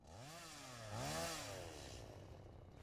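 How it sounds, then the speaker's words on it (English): Video game chainsaw in Satisfactory revving up with a rising and falling whine over a steady buzzing idle, loud and close, with no talk over it. "Oh, updated the chainsaw sounds too"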